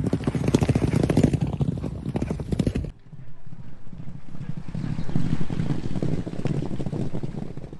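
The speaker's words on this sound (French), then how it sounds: "on est une petite quarantaine de chevaux qui vont travailler sur les pistes ce matin-là" Racehorses work on the track at the Durtal racecourse on a public gallop morning. Rapid hoofbeats drum under wind noise, fade briefly as the shot cuts, then build again, with talk now and then.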